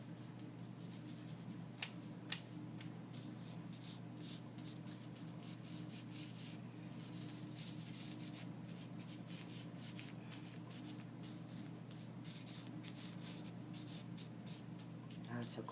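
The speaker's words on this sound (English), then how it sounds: "You want to just kind of rub it in that area just so it's stuck to that adhesive." A hand rubs and smooths double-sided adhesive wrap in steady soft strokes, a close, faint, continuous scratchy swishing with two brief sharp ticks near the start and no talking.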